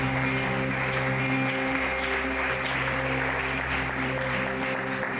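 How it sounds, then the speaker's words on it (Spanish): Church congregation clapping during a service, a continuous wash of applause under steady sustained musical tones that keep sounding throughout. "Dale un fuerte aplauso, Señor"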